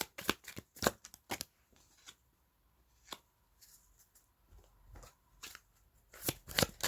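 A deck of tarot cards being shuffled and drawn close up, soft crisp riffles and flicks coming in quick bursts separated by quiet pauses, with no talking.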